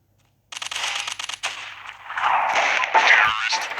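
Rapid gunfire from a Special Forces Group 2 shooter game, a dense burst of automatic shots after a silent start, then a sustained louder barrage of rattling fire and impacts, close and loud.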